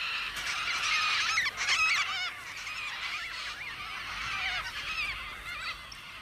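Major Mitchell cockatoos give harsh, raspy calls in a continuous overlapping chorus. The birds are fairly close, and some louder squawks break through about a second and a half into the calls. No one speaks.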